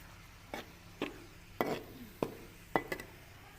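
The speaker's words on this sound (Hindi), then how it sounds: "डालने के बाद इसको अच्छे तरीके से मिक्स करेंगे।" A spoon stirs and scrapes through spiced potato and turnip curry with tomato, chilli and salt in a pan, giving about six distinct scraping strokes over a faint sizzle.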